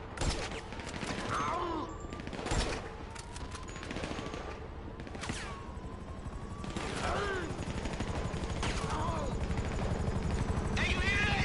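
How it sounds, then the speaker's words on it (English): Attack helicopters close in during a gunfight in the video game GTA 5, their rotors giving a loud, continuous chopping drone under bursts of machine-gun fire and sharp gunshots that keep repeating. "Hey, you hear that? They ain't got some attack choppers on me."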